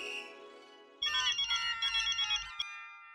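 A mobile phone ringtone plays during an outgoing call, first a brief fading chime, then a bright repeating electronic melody in quick pulses, clear and close with no talking.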